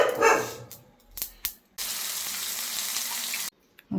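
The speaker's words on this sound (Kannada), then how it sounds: "ಮೊಸರು ಒಗ್ಗರಣೆಗೆ ಹಾಕಿದ್ದೀನಿ." Yogurt poured into hot tempering erupts in a loud, close sizzle lasting about two seconds, preceded by a few utensil knocks and clatters, then cut off abruptly.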